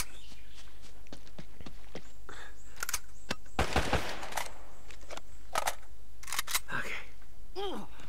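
AK rifle fire in the PS3 game Uncharted: Drake's Fortune, sounding as sharp close bursts and scattered single shots among footsteps and other game effects, fairly quiet throughout.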